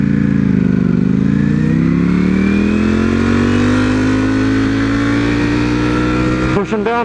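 A Ducati motorcycle engine revs hard and climbs steadily in pitch while accelerating, a loud, continuous, close roar that cuts off abruptly near the end.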